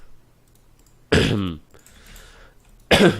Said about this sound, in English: having a little bit of a cough here